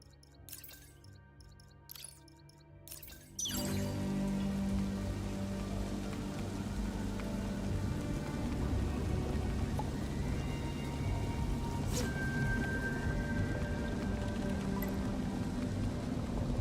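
Steady rain in the video game The Lonesome Guild, a constant hiss that begins abruptly after a few seconds of quieter music-like tones and continues evenly, with a faint chime partway through.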